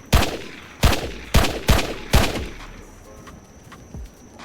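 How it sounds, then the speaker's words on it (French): Five loud gunshots from a video game weapon in a quick uneven series, each with a sharp crack and short echoing tail, followed by fainter shots and a quiet lull. "ce que je trouve bien avec cet arme là, ça c'est la cadence de tir"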